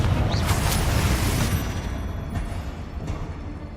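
Confringo fire spell bursting in Hogwarts Legacy, a loud booming blast that rolls off into a rumbling fade over a few seconds.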